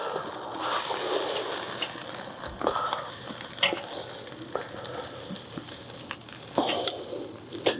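Pork ribs sizzling on a hot grill, a steady close crackle with scattered pops and sharp spits throughout.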